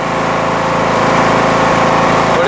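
Lawn mower engine running steadily just after a leaky carburetor repair, a loud, close, continuous buzzing drone with an even throb and no voices.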